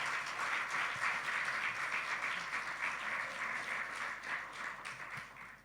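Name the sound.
congregation applause in church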